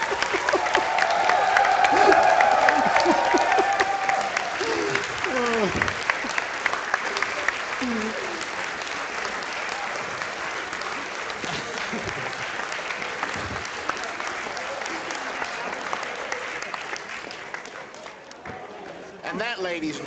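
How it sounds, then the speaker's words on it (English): A large AGDQ audience gives a standing ovation, with dense sustained clapping and some cheering that peaks early and then holds steady for a long stretch under a voice. "We're going to have standing ovation."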